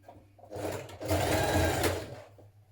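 Sewing machine running a reinforcing stitch along the top of a hoodie seam, two short bursts of rapid mechanical whirring, the second longer and louder, close and alone.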